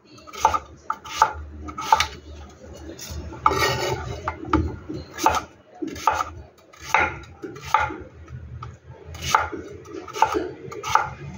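A knife slices squash on a cutting board, prepared for sautéing with shrimp, in a steady series of close, sharp chops and taps with short pauses and no talking.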